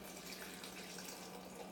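Filtered water poured for a smoothie makes a steady, faint liquid hiss and trickle, continuous and close, with no talking.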